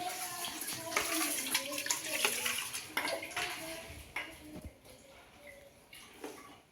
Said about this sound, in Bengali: চালটাকে একটু ধুয়ে রেখে দিই